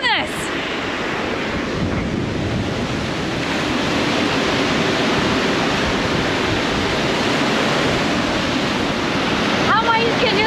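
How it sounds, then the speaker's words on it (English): Steady roar of ocean surf on an island shore with strong wind buffeting the microphone, continuous and loud throughout, with a brief voice near the end. "If you stand right here and wait for the right wave."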